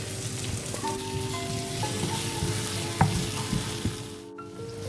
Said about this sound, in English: Fry the green onions and pepper then, and I mix everything together.